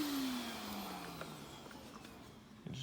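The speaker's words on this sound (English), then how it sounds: "Go ahead and shut the vacuum off." An Aerus Lux (Electrolux) Guardian upright vacuum cleaner shuts off, its motor whine steadily falling in pitch as it spins down, steady and fairly quiet, with a small knock at the end.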